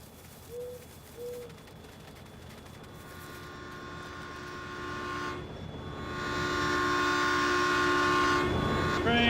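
A train in a farming game set on the West Coast USA approaches. Its sound swells steadily louder, with sustained horn-like tones and rumbling, and two brief higher notes sound at the start.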